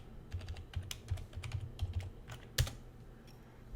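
Someone types a password on a computer keyboard while installing Linux Mint, a close run of quick, uneven key taps ending in one sharper press, with no voice heard.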